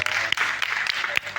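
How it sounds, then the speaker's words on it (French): Audience applause for two slam poets at a spoken-word battle event, a short burst of scattered clapping with a few sharper claps standing out, mixed with voices. "On applaudit pour nos deux slameurs du jour."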